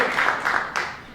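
Brief burst of audience applause at a comedy class show, a few dense swells of clapping over about a second before fading.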